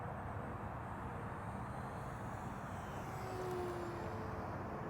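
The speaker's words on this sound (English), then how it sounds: "I'm gonna go full throttle now. It does like to pitch up at full throttle." An E-flite P-51 Mustang RC warbird flies at full throttle, a steady distant motor drone and airy rush with a faint whine rising slightly near the end, no speech.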